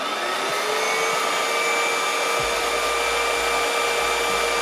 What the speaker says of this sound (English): I also want to measure a noise level of Homeika vacuum cleaner